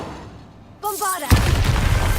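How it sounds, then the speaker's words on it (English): A Bombarda spell blasts off in Hogwarts Legacy: a short rising magical tone, then a loud, sudden explosive boom that leaves a dense rumbling wash trailing after it. "Bombarda."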